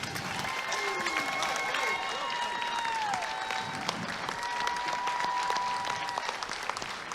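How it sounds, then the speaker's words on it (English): Steady, dense applause from an indoor crowd at a basketball game honors a group of veterans, with scattered whistles and cheers ringing through the continuous clapping. "Please join me in giving a warm round of applause for this remarkable group of men and women"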